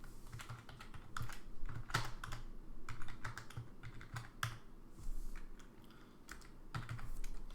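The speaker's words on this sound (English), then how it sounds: "I will type faster if I can use a keyboard" Rapid typing on a computer keyboard, a close, dry run of uneven key clicks in bursts with brief pauses between.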